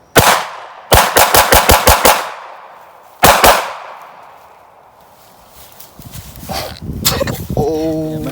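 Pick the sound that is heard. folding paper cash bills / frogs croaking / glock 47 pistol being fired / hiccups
glock 47 pistol being fired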